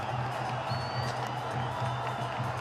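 A T20 cricket crowd cheers a West Indies wicket with a broad, sustained roar of voices at a steady distance. The sound is unbroken and continuous, with a faint low pulsing beneath it.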